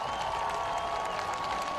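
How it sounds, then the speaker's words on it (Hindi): A crowd applauds during a big-screen address by Ukraine's president, a dense, distant wash of clapping with a steady tone running through it, held at a constant level. "बीच में लोग तालियां बजाते भी दिखे"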